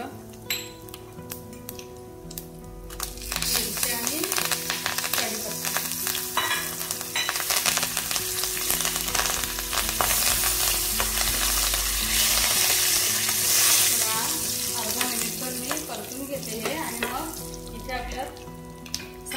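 Mustard seeds and asafoetida crackle and sizzle in a spoonful of hot oil for a sambar tempering, steady and close with scattered sharp pops and some utensil clinks, no speech.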